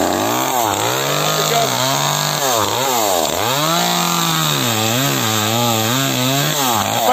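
A chainsaw cuts through wood, its engine loud and close, pitch dipping and rising in repeated waves as the chain bites and frees, with a brief spoken word over it.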